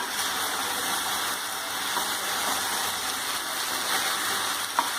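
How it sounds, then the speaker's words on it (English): Vegetables cook and sizzle steadily in a pan while being stirred, a continuous close frying hiss with faint scraping throughout and no talk. "So now see, once we'll open and we'll stir it nicely."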